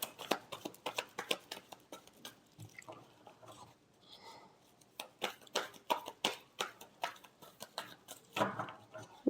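Tarot cards being shuffled by hand, a fast run of close, crisp riffling slaps and flutters in repeated bursts, with a short pause partway through and no talk.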